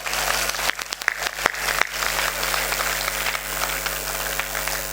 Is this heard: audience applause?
yes